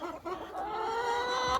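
Broody hens cluck in a steady, close run of throaty calls, the sound continuous and fairly loud with no talking.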